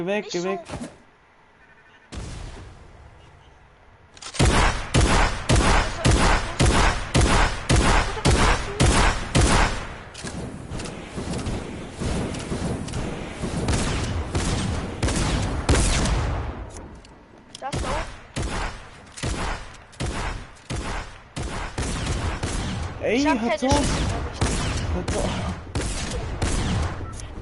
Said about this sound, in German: Hört auf zu schießen.